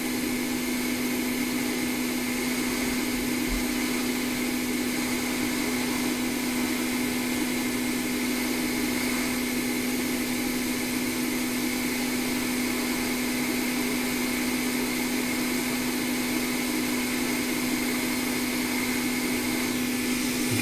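A hot air tool blows steadily on a 2017 12-inch Retina MacBook logic board to cure conformal coating, giving a constant broadband rush with a faint electrical hum that runs unbroken throughout.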